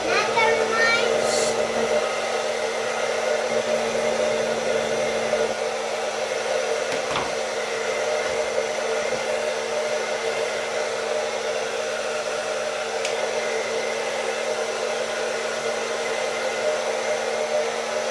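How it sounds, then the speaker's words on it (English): A Jinri infrared professional hair dryer runs with a steady, close, continuous airy whine and hum for the whole stretch, with a few faint clicks and no talking. "So definitely highly recommended hair dryer."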